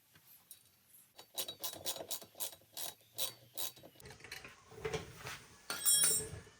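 Allen key ratcheting a bolt on a Harley Davidson laydown license plate mount, a series of sharp metallic clicks in regular bursts, close and fairly quiet, ending with a few louder scrapes and rattles.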